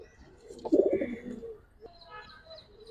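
Pigeons, including silver, Giribaz, racer and fancy breeds, coo nearby in a soft, low burst followed by fainter murmuring coos.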